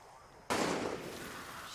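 A single sudden loud gunshot in Far Cry 6, hitting sharply out of quiet and leaving a long rumbling, echoing tail.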